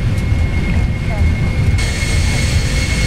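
Steady roar of Boeing 747 jet engines spooling toward takeoff thrust in the Prepar3D flight simulator, a continuous loud drone that brightens partway through, with cockpit voices calling out over it.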